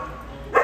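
A pet dog gives a single short, sharp bark close by at the very end, after a moment of low background quiet.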